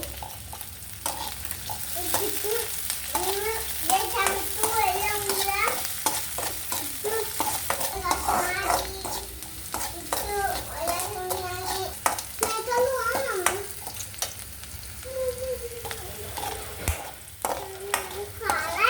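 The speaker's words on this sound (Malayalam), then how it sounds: "ഇഞ്ചി, പച്ചമുളക്, ഉള്ളി, കടുകിട്ട എണ്ണയിലോട്ട് നമ്മൾ ഇട്ടേക്കുവാണ്." Ginger, green chili and onion sizzle in mustard oil seeded with mustard, with a steady fry hiss under repeated spoon scrapes and stirring clatter, while a voice chatters on and off nearby.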